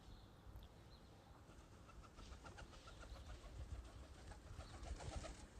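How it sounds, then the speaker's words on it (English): A pigeon coos outdoors in a soft, repeated rhythm, faint against a low background rumble, with no talking. "there's a KGB pigeon there"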